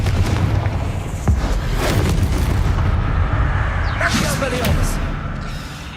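A Confringo blasting spell goes off in Hogwarts Legacy, a heavy booming blast within a dense, loud game soundscape of rumbles and crackles, with a voice speaking over it.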